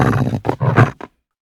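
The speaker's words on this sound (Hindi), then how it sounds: "उस औरत ने पीछे के भयानक शोर की आवाजें सुनी, जैसे उसका कुत्ता किसी के साथ संघर्ष कर रहा हो।" Harsh roaring growls as a sound effect for a dog struggling in a horror story, several loud close bursts in quick succession, ending abruptly in silence.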